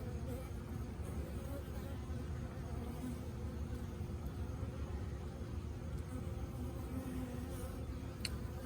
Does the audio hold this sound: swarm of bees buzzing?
yes